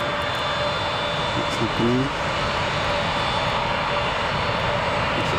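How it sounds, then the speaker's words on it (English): Norwegian jet airliner in football livery taking off at London Gatwick, a steady loud engine roar filling the scene while a person speaks briefly over it. "Next plane to start, take off."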